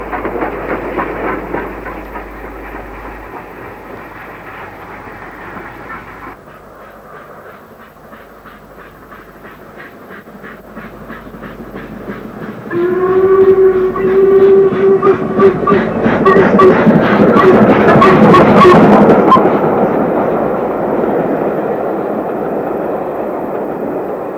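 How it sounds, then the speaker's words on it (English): A freight train rumbles past with rhythmic clickety-clack over rail joints, growing louder and heavier midway as a passenger train follows, curving away towards Bodfari in 1962, then fading off. "A freight train from Mould is followed by a passenger train from Denby, curving away towards Bodfari."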